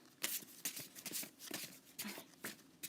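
Tarot cards being shuffled in a run of quick riffles and soft slaps, close and fairly quiet, each burst separated by brief pauses.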